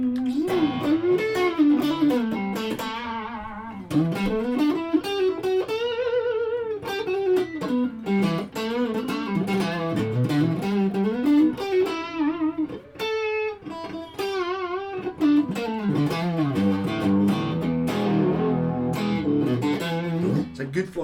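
A Godin Artisan ST electric guitar with a Floyd Rose tremolo, played through heavy distortion, rings out in a continuous run of sustained, bending lead notes and chords with vibrato, loud and close throughout.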